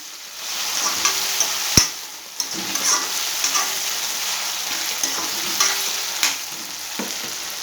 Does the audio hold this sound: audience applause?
no